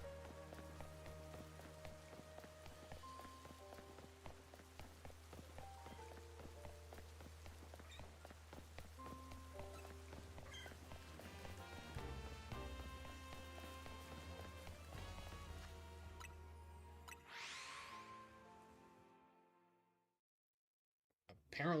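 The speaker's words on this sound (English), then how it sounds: "Apparently it's raining now." Steady patter of rain in Pokémon Legends: Z-A under game music, a continuous soft hiss of drops that fades out near the end.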